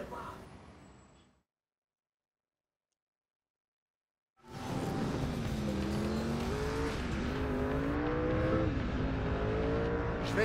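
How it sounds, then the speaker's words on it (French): Racing cars in the Test Drive Unlimited video game on Xbox 360, with a loud, sustained engine drone and shifting revs that start abruptly after a brief silence, partly masked by a low music-like layer. "Qu'est-ce qu'elles sont belles, les bagnoles, dans ce jeu."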